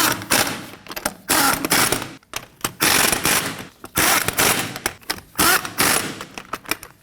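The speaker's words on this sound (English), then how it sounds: "And we'll snug those down in a star pattern." Impact wrench or ratchet driving lug nuts onto a Ford Edge wheel, several loud, close bursts of rapid rattling separated by short pauses.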